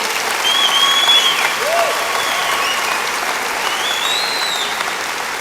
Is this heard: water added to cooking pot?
no